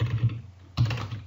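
A computer keyboard pressed for a Ctrl Shift P shortcut in Sublime Text, a couple of quick close keystroke clusters with a brief pause between, crisp and alone.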